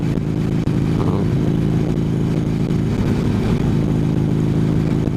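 Steady low engine drone from a Harley motorcycle being ridden on a Las Vegas evening, a continuous loud rumble throughout with no talking.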